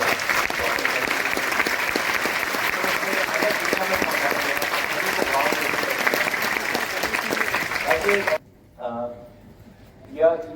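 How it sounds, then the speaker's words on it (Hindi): An audience at a devotional gathering gives loud, sustained applause for about eight seconds, a dense wash of clapping that cuts off abruptly, followed by a few faint sounds. "बहुत ही जोरदार तालियों से हम चाहते हैं कि"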